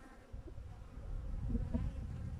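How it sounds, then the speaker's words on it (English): Honey bees hum around a hive frame in a continuous, low, fairly faint buzz that swells slightly, with no one talking. "So we've got friendly bees now, Juliana."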